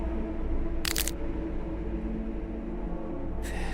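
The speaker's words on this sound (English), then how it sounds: "making a cracking sound as they go." Pieces crack off a face in two short, sharp bursts, one near the start and a fainter one at the end, standing out over a low steady hum.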